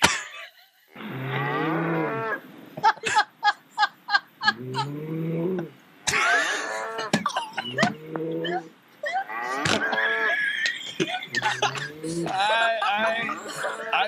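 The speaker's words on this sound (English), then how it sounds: "And now here's the sound of actual cows." Real cows moo repeatedly nearby, with long drawn-out calls and some shorter bursts spread across the stretch, loud and clear with no talking.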